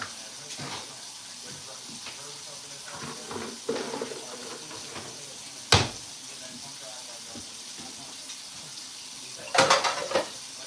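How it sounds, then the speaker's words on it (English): Running tap water splashes into a kitchen sink while dishes are washed during a live home cooking stream, with soft clatters of plates and a few sharp clinks of dishes knocking together near the end. "Let me wash some more dishes or put some dishes up or something."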